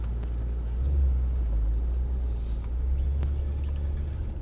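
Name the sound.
Mercedes-AMG E63 car driving on race track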